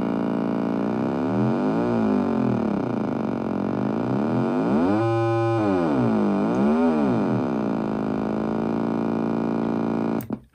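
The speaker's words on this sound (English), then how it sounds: "how my adjustable sawtooth generator that you've seen in some of my other videos actually works" Buzzy tone from an adjustable sawtooth generator synth circuit, its pitch sweeping up and down in repeated swoops, sustained and loud for about ten seconds before cutting off abruptly.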